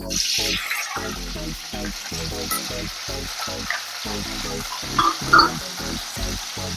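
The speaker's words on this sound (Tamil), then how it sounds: "இப்போ இதை போட்டு நல்லா வதக்கிக்கலாம்." Pirandai (veldt grape) sautéing in oil in a kadai, with a steady close sizzle and a rhythmic run of low stirring knocks throughout.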